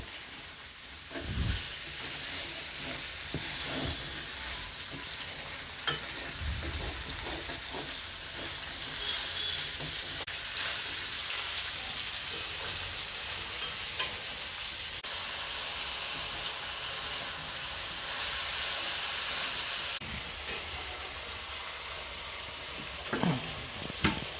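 Ridge gourd pieces frying in spices for a potato and poppy seed dish, a strong continuous sizzle with repeated scrapes and knocks of a spatula as the pieces are stirred, close and loud throughout.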